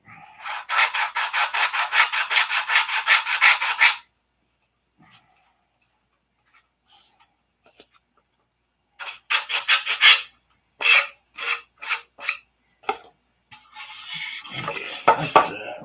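A handsaw cuts through wood during work on a P-47 fuselage, with a burst of fast, steady strokes, a quiet pause, then a handful of slower, separate strokes close by.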